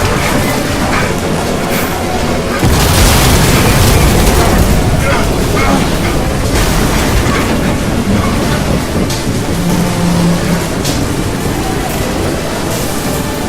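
A torpedo strikes a ship in the shooter game Crysis 2, setting off a loud booming blast and then rumbling, churning roar and metallic crashes that fill the whole stretch, heavy and close.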